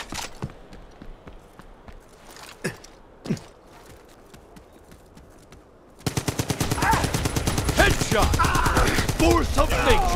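An M1941 light machine gun fires in Brothers in Arms 3, first scattered single shots amid quiet game ambience, then a loud sustained rapid burst of automatic fire.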